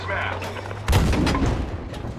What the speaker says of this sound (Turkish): bombalar nasıl geliyor görüyorsunuz